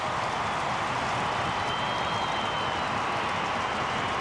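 A stadium crowd at a 2007 AFL match between Geelong Cats and West Coast Eagles roars after a goal, a dense, sustained wall of cheering that holds steady and loud throughout.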